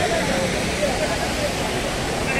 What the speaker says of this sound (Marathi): हा बघा धबधब्याचं पाणी इथून खाली येतं.